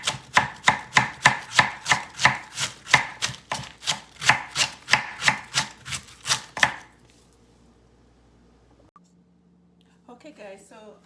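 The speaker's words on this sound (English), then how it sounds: "and then I cut it up." A knife chops cabbage on a cutting board in about twenty crisp, evenly spaced strokes at a brisk steady pace. Near silence follows, then a brief voice at the very end.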